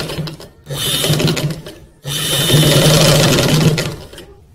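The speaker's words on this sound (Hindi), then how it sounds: "पट्टी के उल्टी साइड से इसकी सिलाई लगानी है" A sewing machine stitches along the reverse side of a button placket on a boy's kameez, running close and loud in two continuous bursts separated by a brief stop.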